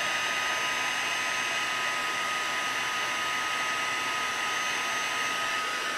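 A heat tool blows hot air to melt embossing powder on cardstock, a loud, constant, even whir that runs close and unbroken the whole time.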